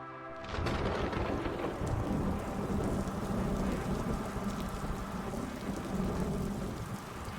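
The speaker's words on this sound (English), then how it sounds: "And this rain is something else." Video game thunderstorm: a heavy rumble of thunder rolls in after a brief quiet start, then steady pouring rain drums on surfaces with low continuous rumbling underneath.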